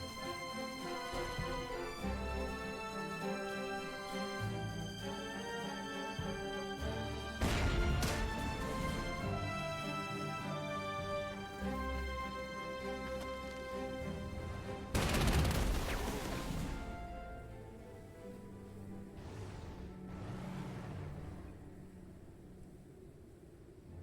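In the strategy game Panzer Corps 2, a tank rolls into a minefield and sets off two sharp, booming blasts several seconds apart, each bursting loudly over steady orchestral music.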